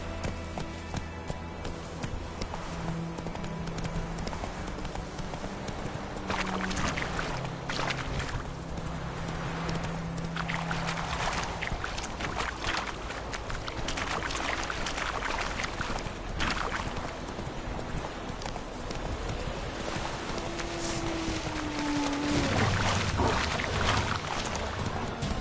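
Horse galloping in The Witcher 3 video game, a continuous run of hoofbeats with clip-clop rhythm over a steady background rumble and layered game sound effects, a pitched tone sliding down near the end.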